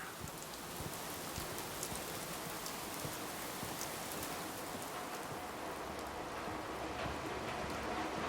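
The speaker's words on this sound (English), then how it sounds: "I love the sound of rain" Steady, even rain pattering on a surface in the video game Fallout 4, a soft continuous hiss with scattered drip ticks, no voices.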